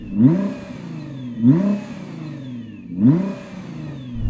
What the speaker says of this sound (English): Go on, rev up the GT-R.